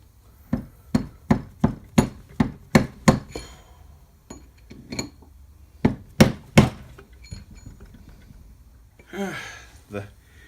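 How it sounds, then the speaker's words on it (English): Hammer striking metal around the ring gear bolt holes of a Ford 8.8 differential carrier, a run of about eight sharp ringing blows followed by scattered hits, with brief talk near the end. "Basically what I was doing was just taking this, hitting around the bottom of these ring gear bolt holes from the carrier."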